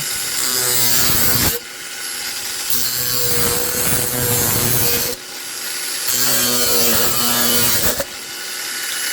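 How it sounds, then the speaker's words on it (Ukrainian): An angle grinder cuts through a thin tin can in loud, harsh bursts, whining and rasping, with brief pauses between passes. "Я нарізаю болгаркою."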